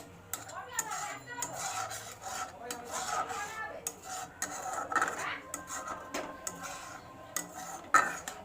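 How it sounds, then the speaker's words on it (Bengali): Cheese Maggi pasta is stirred steadily in a pot, with a utensil scraping and rubbing the metal in quick, uneven strokes and occasional sharper clinks, close up and moderately loud. "এখানে কনস্ট্যান্ট নাড়াতে থাকবে, নাহলে দেখো এই যে বসে যাচ্ছে"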